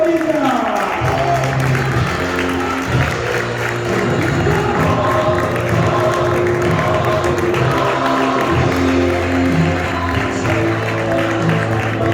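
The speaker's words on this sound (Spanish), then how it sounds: "recibir con una fuerte ovación" Crowd at a karting podium ceremony, Carlos Sainz karting series 2021 GP7, greets first-time winner Juan Bonilla of kart number 20 with steady applause and cheering, sustained throughout and mixed with voices and tonal sound.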